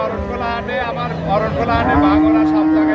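Cattle mooing at a busy rural livestock market, a loud, drawn-out, harmonic low that rises into a sustained tone, with people talking in the background.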